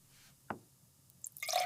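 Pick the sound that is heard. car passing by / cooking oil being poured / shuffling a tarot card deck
cooking oil being poured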